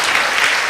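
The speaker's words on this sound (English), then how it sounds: "Now that you clapped" An audience claps in dense, steady applause after an inspiring class at a festival, loud and close with no pauses.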